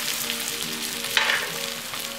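Butter dropped into hot rapeseed oil in a frying pan, giving a steady close sizzle with a brief sharp flare as it hits, then settling back to a continuous crackle.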